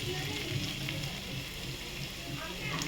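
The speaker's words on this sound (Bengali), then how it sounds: "আদাটা ভেজে নেব।" Ginger frying in a pan, a low, steady sizzle and crackle of oil that stays fairly quiet and even throughout.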